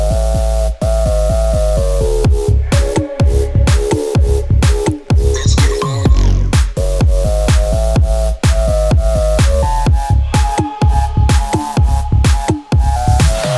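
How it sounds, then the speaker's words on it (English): Full EDM drop from a dance-track remake, a dense, loud mix of sustained synth chords, kick, clap and percussion pumping in a steady rhythm, with a brief breakdown sweep midway, with no talking. "With all that combined, the full drop sounds like this together."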